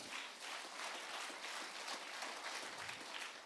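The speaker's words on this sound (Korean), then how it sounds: "박수 10번만 시작." A large group of young people at a winter youth camp's opening worship session claps hands together in a dense, steady burst of applause lasting a few seconds, with no talking over it.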